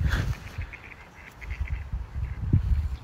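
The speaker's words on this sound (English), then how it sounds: "wild Drake Mallard just flew into the pond. And Larry and Leroy are chasing him off" Domestic and wild drake mallards chasing on a pond, with bursts of quacking and splashing, fairly close, over a low rumbling outdoor background.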